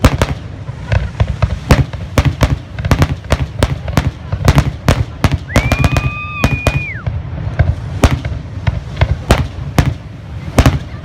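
Fireworks burst at night at a beach, a rapid irregular series of loud sharp cracks and booms with one rising whistle partway through, and no talking.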